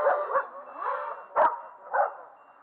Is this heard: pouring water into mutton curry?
no